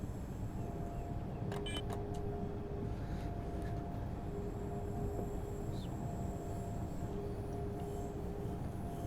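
A train on the Mittenwaldbahn in Train Sim World 6 runs with a steady, continuous rumble and wheel noise. A few faint higher clicks and whines rise above the drone now and then, with no talking.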